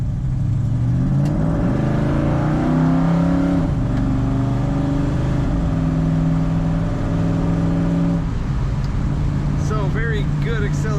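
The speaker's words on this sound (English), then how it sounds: "So very good acceleration, excellent shifting, and an excellent exhaust note." A 1968 Chevrolet El Camino SS 396 accelerates and shifts through its gears, its exhaust droning and climbing in pitch, with someone talking over the engine.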